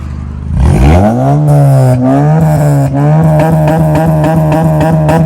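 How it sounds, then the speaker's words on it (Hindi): A stage 2 tuned fifth-generation Honda City with VTEC revs hard through its exhaust, a loud close engine climbing in pitch, dipping and holding at high revs with a crackling, rasping tone and no talk. "सबसे पहले गाड़ी का एग्जॉस्ट सुनाओ, जिस पे हमने इतना सारे पैसे लगाए हैं। तो रेफ करो आप।"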